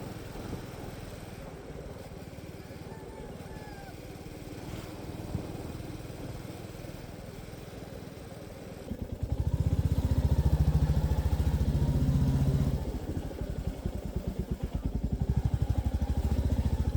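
A Royal Enfield Meteor 350 motorcycle is ridden on a road. Its engine thrums low and steady under wind noise, then grows louder and rougher partway through, with no speech.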